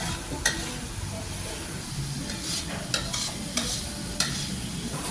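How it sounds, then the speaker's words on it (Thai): Yellow chilies, pounded garlic, holy basil, kaffir lime leaves, green peppercorns, spur chilies and fingerroot are stir-fried in a pan for spicy fish, giving a steady sizzle broken by sharp scraping stir strokes. "ผัดให้หอมให้สุกค่ะแล้วก็ปรุงรส"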